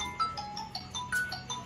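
A mobile phone rings for an incoming call, playing a bright repeating electronic melody of short beeps in a steady rhythm at moderate volume, with no voices over it.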